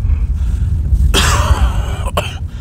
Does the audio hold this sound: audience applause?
no